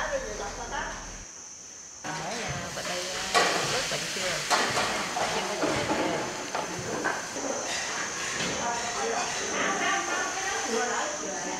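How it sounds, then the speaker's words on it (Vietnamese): Rice-flour batter for vegetarian bánh xèo sizzles and hisses in several frying pans at a temple kitchen in the Mekong Delta, a steady crackling spread through the clip, with people's voices and clatter mixed in. "Giờ thì tới công đoạn chiên, mỗi người hai chảo"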